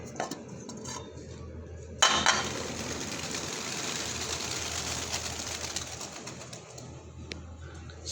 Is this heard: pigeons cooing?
yes